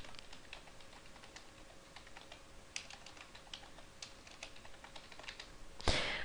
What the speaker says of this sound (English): So I'm just going to type my favorite place to